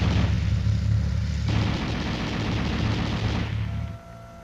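A 7.62mm M73 coaxial machine gun on an M60 tank fires one sustained rapid burst of about four seconds, loud and dense, before cutting off.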